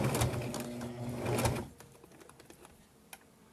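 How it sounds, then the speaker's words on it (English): A sewing machine runs a straight stitch along the edge of fabric for a hot pad, a fast close mechanical whir with rhythmic ticking for about a second and a half, then it stops, leaving faint handling clicks. "So we're just going to do a straight stitching here."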